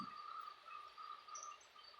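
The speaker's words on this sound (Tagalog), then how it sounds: "maingay na yung mga kuliglig kasi nga sobrang umuulan" Crickets chirp in a steady, high, pulsing trill during heavy rain, faint and continuous, with no talking.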